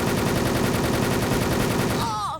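Rapid automatic gunfire from the online shooter video game Wolfteam, a loud, dense stream of shots with no pauses, breaking off near the end into a short, warbling electronic tone.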